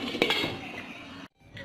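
A metal lid is lifted off a pan of cooking potato omelette, giving a light clink of cookware against a soft sizzle, followed by a brief silence and the sizzle again.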